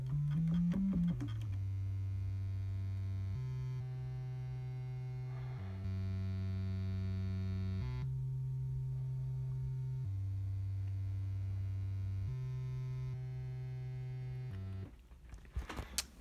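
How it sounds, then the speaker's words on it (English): A single oscillator on a Moog Sub37 synthesizer plays a sustained, buzzy tone rich in harmonics that steps between several held pitches, then cuts off near the end, alone. "let's turn oscillator one on. Maybe turn volume up."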